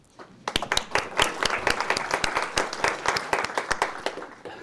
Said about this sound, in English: So I'd also like to give all of you a round of applause.